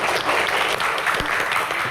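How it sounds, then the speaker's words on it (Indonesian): A studio audience on a television Q&A show applauds guest Vicky Prasetyo as he takes his seat, steady close clapping filling the whole moment. "Tepuk tangan untuk Vicky Prasetyo."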